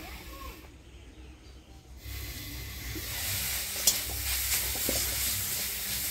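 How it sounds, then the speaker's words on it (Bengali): Coriander leaves frying in a little oil in a pan, a soft hiss that swells into a fuller, steady sizzle partway through with a few small pops, close and without talk. "অল্প তেল দিয়ে ধনিয়া পাতাগুলো ভাজে নিব।"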